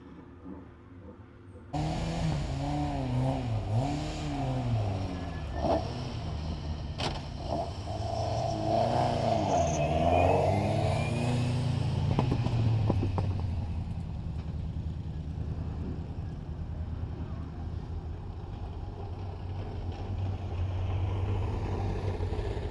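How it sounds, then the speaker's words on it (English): Hillclimb race cars at Loton Park roll slowly back into the paddock, engines rising and falling as several cars pass at moderate distance, followed by a steadier low engine drone. "We now have a bit of a traffic jam heading back into the paddock."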